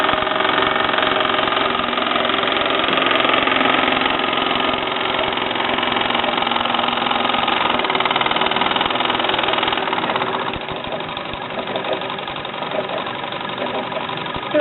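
A 1965 Mamod TE1 model steam engine runs on a Meccano rolling road, a loud continuous mechanical rumble with knocking and chuffing that eases slightly in the final seconds.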